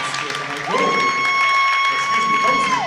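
A small high school basketball crowd cheers and claps after a layup, a sustained burst of applause in a gym with a steady whistle-like tone running through it.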